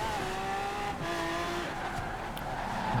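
A racing car in Forza Horizon 4's winter event holds a steady engine drone while its tires squeal through a long left turn, the pitch gliding and wavering across the pass, with no talking.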